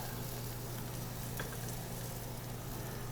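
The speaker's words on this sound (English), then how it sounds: "while our pan's still nice and hot, I'm gonna go ahead and add a little bit of shallot" Shallot sizzles in a hot cast iron pan, a steady, close hiss of frying that holds evenly throughout with no talking.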